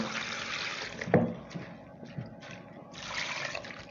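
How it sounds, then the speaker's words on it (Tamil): Water trickles and splashes into a cooking pot for a greens curry, with a brief clatter, a pause of quieter dribbling, then steady pouring resumes. "இப்போ தேவையான அளவுக்கு தண்ணி ஊற்றிக்க வேண்டியதுதான்"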